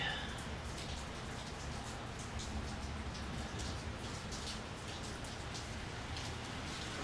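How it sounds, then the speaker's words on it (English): Heavy rain pours down steadily outside a garage, a dense continuous hiss with pattering drops and no break, fairly loud and constant. "It is freaking raining cats and dogs today."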